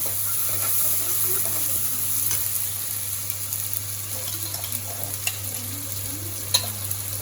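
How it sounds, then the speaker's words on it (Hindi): Steady sizzling of spices frying in hot oil for tempering, a continuous crackle with occasional sharper pops, close by and with no talking. "तड़के की आवाज़ तो आ ही रही है।"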